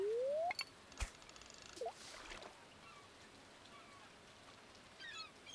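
Light rain falls steadily in a farming video game, a faint soft patter with a few brief game tones at the start.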